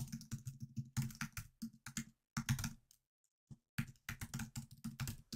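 An email address is typed on a computer keyboard. Rapid, close clicking keystrokes come in quick bursts, with a brief pause midway and no voice.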